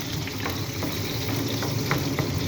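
Eggs with tomato fry in a pan with a steady, dense sizzle and occasional crackles, close and continuous with no talking.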